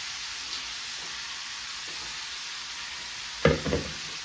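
A big batch of onions sautés quietly in a pan, a soft continuous sizzle with a couple of louder scraping stirs toward the end and no talking.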